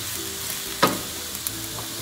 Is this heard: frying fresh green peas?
yes